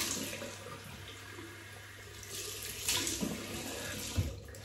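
Tap water runs steadily into a sink to rinse shaving lather off after a wet shave with a Parker 65R razor, a continuous close splashing stream with a few louder surges.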